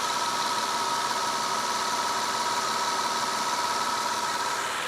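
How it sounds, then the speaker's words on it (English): A BMW V12 engine idles smoothly after an alternator bracket seal gasket replacement, giving a steady, even hum that stays constant and fairly close, with no talking. "Started straight up and it sounds perfect, sounds so smooth, just as a V12 engine should"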